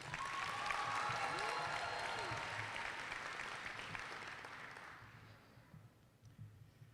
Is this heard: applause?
yes